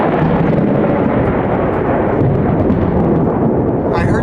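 Near a sailboat at sea, a lightning strike brings a loud, sustained rumbling crash of thunder mixed with rain. The roar stays heavy throughout, with a faint voice at the end.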